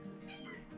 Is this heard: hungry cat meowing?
yes